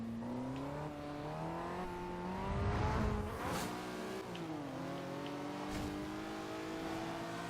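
A racing car in Forza Horizon 2 accelerates hard, its engine rising in pitch through several gear shifts. The roar is loud and continuous, swelling briefly near the middle before settling into a steady high whine.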